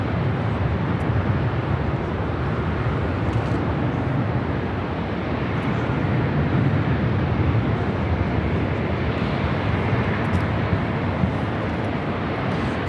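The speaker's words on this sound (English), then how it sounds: "is the Emirates A380 Super heading back to Dubai" An Emirates Airbus A380 airliner departs for Dubai with a steady, loud, broadband jet roar that holds evenly for the whole stretch without letting up.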